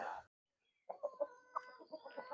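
After a short pause, a hen gives a run of soft, close clucks in quick uneven bursts.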